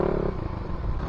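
Suzuki Raider 150 Fi motorcycle fitted with an ORBR exhaust pipe, running with a steady low, throaty engine rumble and a slight rattle, close and continuous through the short moment.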